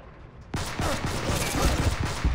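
A gunshot in the stealth game Counter Spy: a sudden loud blast after a quiet half-second, followed by a sustained noisy burst of fire that carries on to the end.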